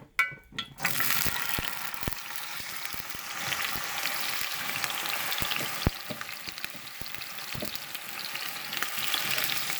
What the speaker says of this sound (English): take our meat that we have had marinating in the soy sauce and the white wine vinegar, and we're just going to put it right into the skillet here